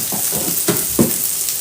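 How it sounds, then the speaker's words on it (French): Onion sautés in a pan with a little oil and the remains of butter, giving a soft continuous sizzle. A few brief scraping stirs break through it, and no one speaks. "Je vais venir faire sauter un peu d'oignon, juste un peu."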